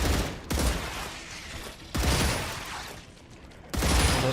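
Gunfire in the sci-fi video game StarRupture comes as three bursts of rapid shots, each cutting in sharply and tailing off, spaced over about four seconds, with no voices.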